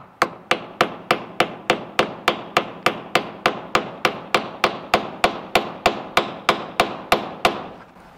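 Steady hammering of grommets into a car cover, about two strikes per second, with sharp evenly spaced blows ringing out clearly and no voices.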